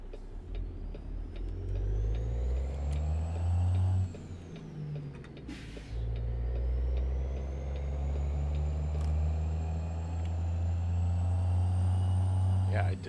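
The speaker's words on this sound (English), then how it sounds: "Truck sounds pretty sweet in the surround sound." A heavy truck engine in a trucking video game drones steadily and loudly. The revs rise and fall, a sharp hiss of air brakes breaks in midway, and then the engine settles back into a constant hum.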